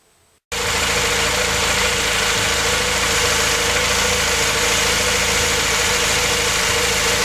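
A Honda Prelude engine fires up about half a second in and settles into a steady, even idle, a continuous close mechanical hum with a faint tapping texture that holds to the end.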